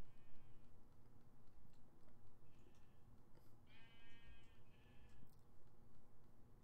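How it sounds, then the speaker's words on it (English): Sheep bleat in the video game Minecraft, several short faint calls over a soft steady background with no talking. "There's a brown sheep."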